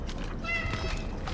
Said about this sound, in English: Where is that cat meowing from?